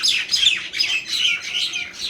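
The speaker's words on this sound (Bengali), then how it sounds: "দেখ তো পাখিগুলো ঝগড়া করছে।" Several birds squabble with rapid, overlapping, high-pitched chirps and squawks in quick bursts, close and fairly loud, with no talking.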